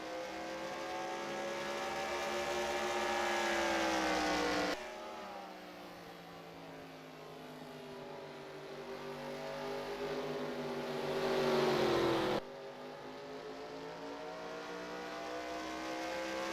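Race cars in a VTuber racing league game at Milwaukee roar continuously with engines droning and shifting pitch as they pass, loud and steady with two abrupt cuts, no talk.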